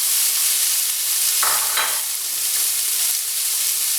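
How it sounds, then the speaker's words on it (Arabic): Onion frying in oil and butter makes a constant, even sizzle, broken by a couple of brief stirring scrapes near the middle. "غنديروا ديك البصله تشحر، غنديروا شويه ديال الزيت روميه، شويه ديال الزبده"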